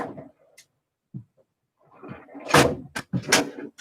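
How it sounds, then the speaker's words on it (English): Drawers in a craft room are pulled open and shoved shut one after another during a hunt for paints, giving a few sharp wooden knocks and sliding rumbles at close range with short quiet gaps between them. "I got to open about 20 drawers to find these rascals"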